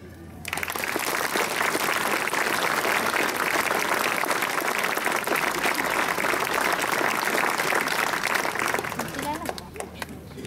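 A crowd of relatives and guests gives a long, strong round of applause at an Austrian Armed Forces swearing-in ceremony for soldiers in Krenglbach. Dense clapping starts abruptly and stays loud and even for about ten seconds before easing off.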